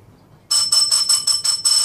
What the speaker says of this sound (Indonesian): Maaf guys kalau ada suara bel.